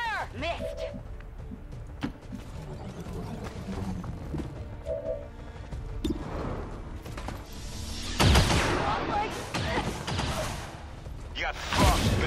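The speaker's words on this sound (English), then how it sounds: "Taking heavy fire!" Heavy gunfire in the video game XCOM 2, with scattered sharp cracks and clattering bursts, strongest in a dense loud volley late on, mostly heard under ongoing talking.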